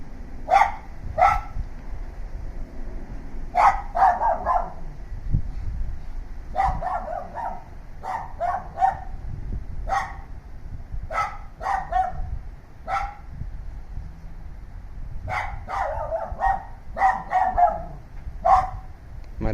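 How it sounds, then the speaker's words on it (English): Dogs bark repeatedly in irregular bursts of sharp barks and yips, moderately distant, with a low rumbling background between them. "that's the barking dogs"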